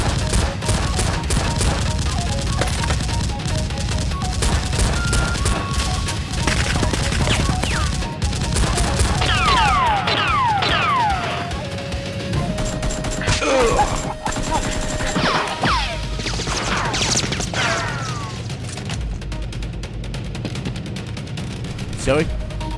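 Nerf guns fire in a busy Nerf war, with rapid pops and bursts of shots layered over music-like tones and clattering sounds throughout.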